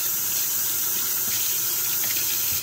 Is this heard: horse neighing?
no